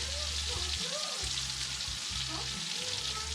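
Sausage frying in a pot as its fat renders out, a steady close sizzle with faint stirring and scraping underneath, no talking.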